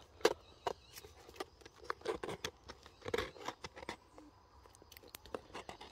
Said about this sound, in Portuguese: Agora vamos lá, vamos cortar aqui, ó. Cortar aqui de lado, ó.